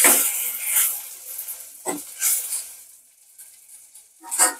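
Ingredients sauté in a clay pot for a fish curry, with intermittent soft sizzling bursts and stirring scrapes that fade into quieter stretches between them.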